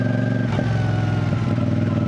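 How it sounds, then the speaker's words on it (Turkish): A motorcycle fitted with a 450 CLC exhaust idles with a steady, loud engine hum, blipping the throttle briefly around the middle of the stretch. "egzoz böyle gaz veriyorsun. Birden elini gazdan çekiyorsun ve arkadan böyle pıt diye bir ses çıkartıyor."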